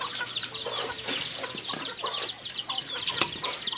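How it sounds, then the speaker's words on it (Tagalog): A flock of chickens and chicks clucks and peeps continuously during feeding, a busy overlapping chorus of short calls close by. "Bigyan din natin yung mga sisiw dito sa taas."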